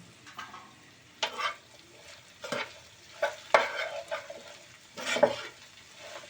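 Masala okra (bhindi) curry is stirred and fried in a pan, with several scraping strokes of a spoon over a soft, steady sizzle, close up, in bursts separated by brief pauses, and no talking.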